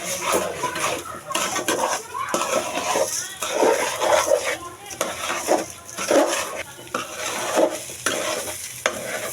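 Uncooked rice fries and is stirred in a hot pan for a cauliflower biryani. A steady sizzle runs throughout, with constant scraping and utensil clatter up close, and faint talking underneath.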